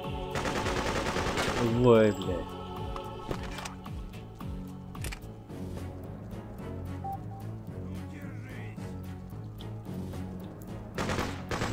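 Machine gun fire in the war shooter Freedom Fighters, rapid bursts of rattling shots with a loud burst early on, then scattered shots continuing under background game sound and occasional talk.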